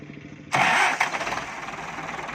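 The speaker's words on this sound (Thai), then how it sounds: "ผมบดีเหยียบคันเร่งนะครับผมบิดกุญแจนะครับ บิดกุญแจเท่าแรกนะครับ" A Ford 6610 two-axle tractor cranks on the key and its diesel engine catches abruptly, then settles into a loud, steady, knocking idle nearby.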